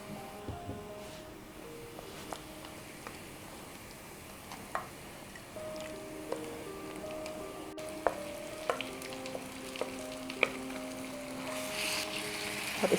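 Mutton hitting a pan of golden brown fried onions for a spicy mutton curry, a steady soft sizzle with scattered crackles and pops from the hot oil and a few louder spattering bursts late on, with no talking.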